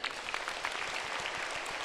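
Audience applause at a Brahma Kumaris dedication ceremony at Shantivan, Mount Abu, a steady wash of many hands clapping that holds evenly for the whole stretch.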